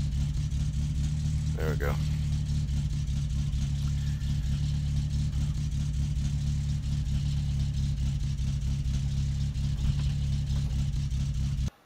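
A car engine in the driving game My Summer Car holds a steady, loud, low drone under light throttle for the whole stretch, and a voice speaks briefly near the start.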